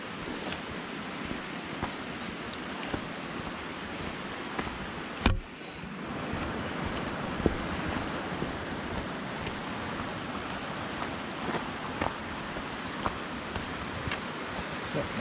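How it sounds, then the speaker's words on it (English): A small river flows beside the Bonneville Shoreline Trail before the spring mountain runoff, giving a steady, even rushing of water nearby, with one brief knock partway through. "Nice little river."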